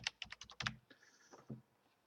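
Someone typing a blog post on a computer keyboard: a quick run of about six close, crisp keystrokes, then softer scattered taps and clicks.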